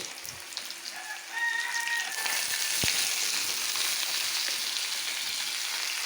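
Green jackfruit and potato pieces dropped into hot oil with panch phoron, a quiet start bursting into a loud, dense, crackling fry that stays steady after a single knock.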